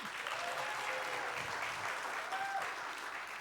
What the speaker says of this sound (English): Please, a round of applause for Vinny Goge.